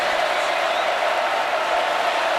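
A loud stadium crowd roars and claps continuously at a college football game between Notre Dame and Georgia, a dense, unbroken wall of noise with no distinct voices standing out.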